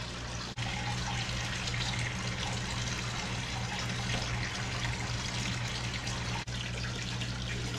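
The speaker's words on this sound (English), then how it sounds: "This right here is only sucking up the dirt in between the gravel." Gravel vacuum siphoning dirty water out of a home fish tank, a constant close trickling and gurgling flow with a faint low hum beneath and two brief clicks.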